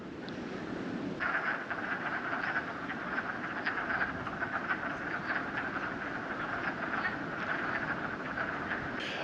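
A dense chorus of wood frogs calling continuously at a breeding pool in spring mating season, clucking croaks overlapping steadily at a moderate distance, with no talking.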